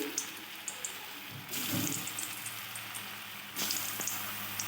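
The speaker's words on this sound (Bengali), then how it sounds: "এবার আমি এক এক করে কোপ্তাগুলো তেলে দিয়ে দিচ্ছি" Hissing sizzle of raw banana koftas frying in hot mustard oil, surging louder in two steps as more pieces go into the pan, with a few soft clinks.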